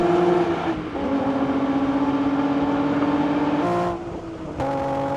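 A Nissan Z in a drag race sounds as a loud, sustained engine drone with a steady pitch that shifts in stages as the car gears up, then cuts off and picks up again.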